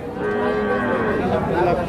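A pregnant cow at the Aronkola cattle market in Pabna lets out one long, loud, low moo that carries steadily for almost two seconds, close by.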